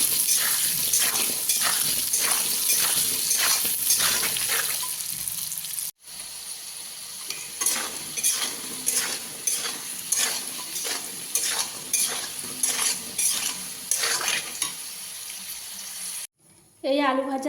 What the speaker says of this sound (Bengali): লবণ দেব, হলুদ দেব, আলুটাকে ভালো করে ভেজে নেব।